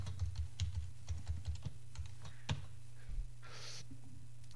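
Computer keyboard keys tapped while entering a password, a quick run of soft close clicks in short bursts with pauses, over a steady low hum; no voices.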